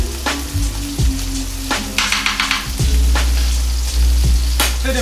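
Anchovies fry in a hot pan with a loud, continuous sizzle and crackle. Close spattering and occasional pan knocks come through as the fish goes in.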